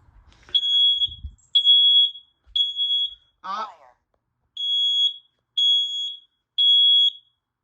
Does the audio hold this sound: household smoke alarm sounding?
yes